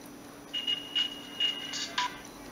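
A Siemens CX65 mobile phone switching on, a few short electronic beeps and tones spaced about half a second apart over a faint steady hum, close and quiet, no voices.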